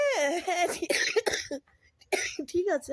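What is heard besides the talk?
cough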